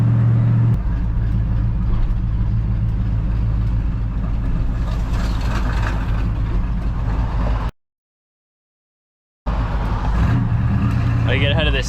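A 1981 Chevrolet squarebody truck with a loud exhaust drives through the suburbs, its deep engine rumble and exhaust roar steady and close before a brief dropout, then returning.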